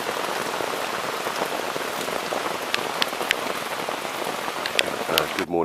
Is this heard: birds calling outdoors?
no